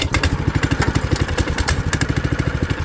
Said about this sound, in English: hopefully a couple pulls and this thing should be running